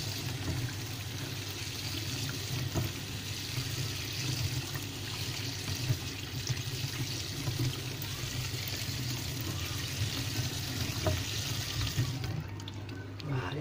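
Water drains steadily through a sieve and is poured off to the side, a continuous close trickling and pouring wash that carries on without pause and thins out at the end.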